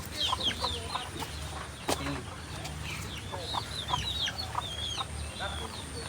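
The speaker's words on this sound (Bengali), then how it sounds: "এটা সে মুরগির বাসা।" Chickens cluck and chirp around their coop in a rural setting, a steady run of short calls over a constant low background hum.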